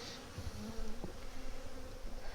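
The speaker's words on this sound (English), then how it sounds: "Shaking all the bees in the box." A dense, steady hum of honey bees buzzing as they are shaken off a frame into a hive box, many wings droning close and continuous, with faint thumps in the background and no voices.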